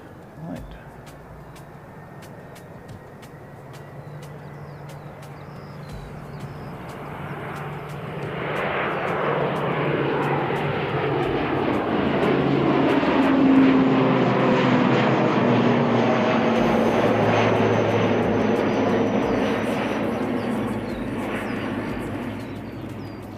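An airliner takes off from Christchurch Airport, its engine roar building steadily from a distant rumble to a loud, broad sweep overhead before slowly easing, heard alone without talk.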